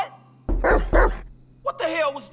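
In the video game GTA 5, a dog gives two quick, loud, close barks, followed by someone speaking.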